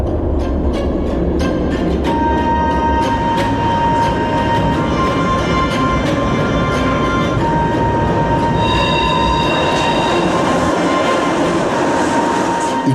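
A train rolls slowly through stations on the Berlin Wall route, its steady loud rumble and wheel clatter filling the whole stretch, with occasional high metallic squeals from the wheels and no voices.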